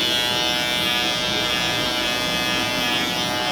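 Electric clippers with detachable blades buzz steadily and up close while cutting a bald fade, a continuous loud motor hum with no pauses and no talking.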